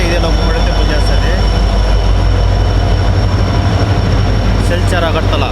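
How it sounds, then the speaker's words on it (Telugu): A WDP-4D diesel locomotive hauling the Silchar–Agartala Express rumbles steadily with continuous wheel and rail noise and a loud engine drone, heard close from on board without break. "ఇదిగోండి మన లోకోమోటివ్ WDP-4D లోకోమోటివ్, న్యూ గౌహతికి సంబంధించిన లోకో"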